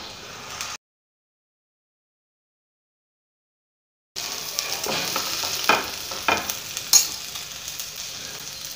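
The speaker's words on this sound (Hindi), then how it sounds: "आप इसे तवे पर भी सेक सकते हैं, इस तवे पर भी ऐसा ही सिकेगा।" Aloo sandwich of brown bread pressed on a hot tawa griddle, a steady close sizzle that starts after a long silent gap, with a few sharper crackles and pops as it is pressed.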